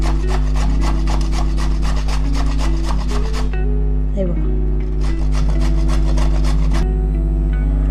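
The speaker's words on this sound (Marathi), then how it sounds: "तर ही रताळी पण मी अशी किसून घेते याच्यावरती" Sweet potato is rubbed against a kitchen grater in quick, regular scraping strokes, with a brief pause partway through, over a steady tonal background.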